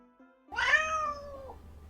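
A house cat gives one drawn-out meow, close and clear, starting after a short pause and tapering off, against an otherwise quiet room with no talking.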